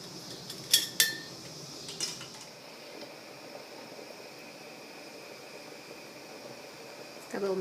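A magnetic lid lifter picks up Ball canning jar lids from hot water while refrigerator dill pickles are canned. A few sharp metallic clinks come near the start, then a steady quiet hiss with a faint clink at the end.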